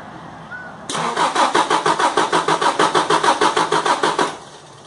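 A car that will not start cranks repeatedly, the starter churning in a steady even rhythm of about a dozen beats for several seconds, loud and close, without the engine catching.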